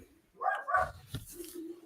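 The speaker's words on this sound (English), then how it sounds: "You can hear my dog barking, man." A couple of quick dog barks, fairly faint and a little distant, followed by a short whine-like tone.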